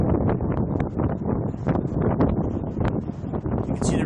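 Strong, gusty wind buffets the microphone beside the Ohio River during a severe weather outbreak, a continuous loud roar that swells and dips in waves with no clear voice.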